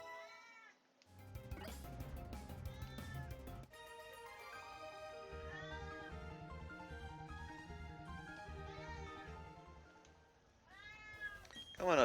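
A cat meows repeatedly and insistently up close, long wavering cries one after another with a short pause, ending in a sharp louder yowl.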